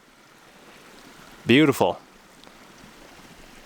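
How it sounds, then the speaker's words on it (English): A mountain creek flows in a soft, steady hiss of running water throughout, faint and constant, briefly under a single spoken word. "welcome to this beautiful creek in the mountains"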